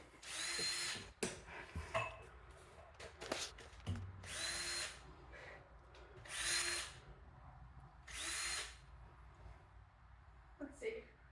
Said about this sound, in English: that drill going.